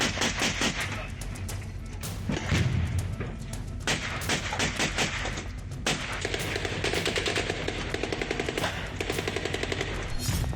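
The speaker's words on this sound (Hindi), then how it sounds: "यूक्रेन के पूर्वी इलाके लुहांस्क में इसी तरह गलियों में गोलियां बरस रही हैं।" Dense gunfire crackles through the streets of Luhansk in eastern Ukraine, with rapid machine-gun bursts and heavy booming shots arriving nearly nonstop, loud and close, with no voices.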